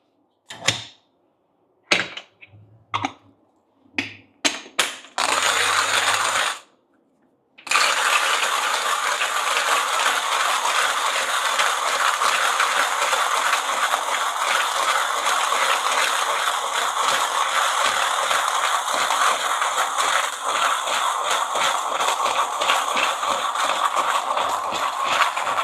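A coffee grinder grinds beans for pour-over brewing, with a few short clicks and bursts before a steady, loud, continuous whirring grind that runs for about eighteen seconds.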